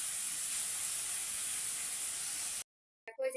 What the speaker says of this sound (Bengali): তো চলো চিকেনটা আগে ভেজে নিই।